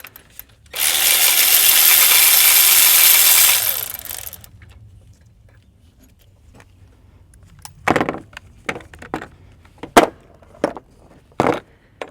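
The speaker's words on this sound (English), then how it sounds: "And then we'll get our wrench on there." A hand tool works at an intake manifold bolt on a GM Vortec V8 in an OBS Chevy truck, a sustained rasping burst for about three seconds followed by a run of sharp, separate metallic clicks and knocks close by.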